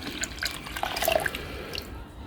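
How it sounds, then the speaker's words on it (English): Hydrochloric acid poured into a container for processing gold-plated BGA chip corners, a close, steady liquid trickle with small bright drips and splashes, no talking. "Acids cost a lot, so I'll pour that in there."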